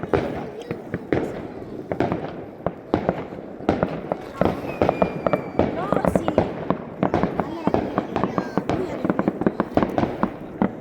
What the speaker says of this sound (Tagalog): Ito, nire-ready na ni Bayaw yung fireworks.